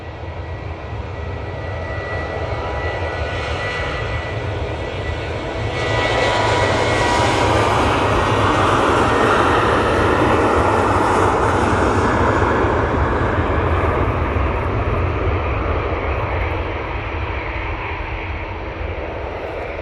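A TUI Boeing 737-800 airliner at Manchester Airport roars steadily and loudly, its broadband jet noise swelling midway and holding strong before easing slightly, with no voices over it.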